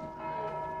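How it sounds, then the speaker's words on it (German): A church bell in the video game Dark Souls 2, struck by the player character, rings as a steady sustained tone with clear harmonic overtones, moderately loud with no speech over it. "Wahrscheinlich kann ich das sogar selber noch anschubsen, die Glocke, wenn ich dagegen haue."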